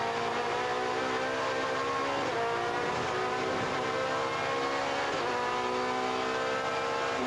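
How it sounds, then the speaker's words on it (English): A touring race car from the 2002 European Touring Car Championship brakes hard and drops through the gears into a second-gear left-hand corner, its engine note blipping and shifting in a loud, continuous close-up roar with no talk. "Now we are late braking into this 2nd gear left-hander"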